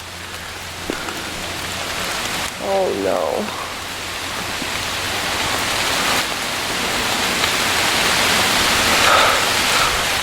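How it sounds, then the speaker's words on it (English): Steady rain hisses over water running along gutters, growing slightly heavier over time; a person speaks briefly near the start. "The rains are coming back."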